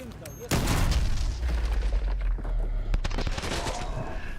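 Door breaching explosion in Modern Warfare 2 Remastered, a sudden loud blast followed by a rumbling tail and a sharp crack of gunfire, with a voice speaking over it.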